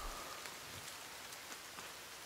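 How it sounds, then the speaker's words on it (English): Rain falls steadily in the survival game The Forest, a soft, even hiss of drops with a few faint taps rising above the wash. "It's raining."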